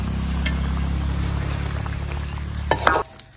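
A pan of sauce with tomato, pineapple, squid soy sauce and sugar bubbles and sizzles steadily up close, with a few clinks of a utensil near the end.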